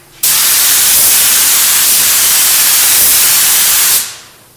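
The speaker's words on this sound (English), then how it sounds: "Let's spray a little bit here on our piece of." A paint spray gun hisses loudly and steadily for about four seconds, a dense airy rush that starts abruptly and fades out at the end.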